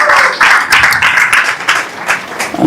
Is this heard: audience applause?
yes